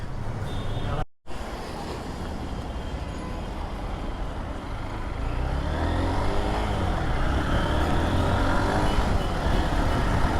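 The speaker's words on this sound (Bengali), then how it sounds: "আচ্ছা গাড়িটা একটু বাই করো আগে একটু চালায় দেখি" A second-hand motorcycle runs close by, its engine a steady rumbling drone that briefly cuts out, then builds and grows louder and rougher as the bike pulls away and rides, with voices in the background.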